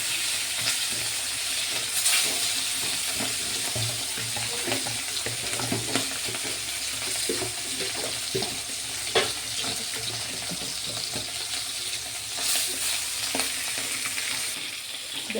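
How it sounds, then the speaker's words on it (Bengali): Fish pieces fry in hot oil for a mustard-free tamarind sour dish, giving a loud continuous close sizzle and crackle with occasional stirring clatter and no talk. "এক এক করে মাছটা দিয়ে একটু একটু ভেজে নেব"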